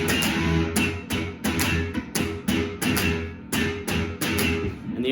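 Electric guitar plays rhythmic palm-muted notes from a punk song, a steady chugging pattern of short, choppy strums repeating alone and close.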